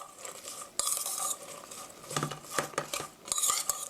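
Vegetable pancake batter is stirred in a bowl with a utensil, giving soft, irregular scraping and clinking strokes with a few sharper taps, fairly quiet and close with no talking.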